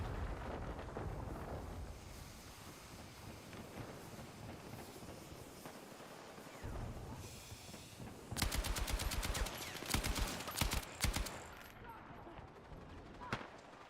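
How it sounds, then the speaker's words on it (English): Explosions and rapid gunfire from a Battlefield 6 beta match, a steady rumble of battle noise building into loud, dense bursts of automatic fire near the end, with voices talking over it. "maybe don't walk towards all of the exploding stuff, Travis."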